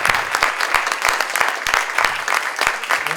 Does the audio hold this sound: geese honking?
no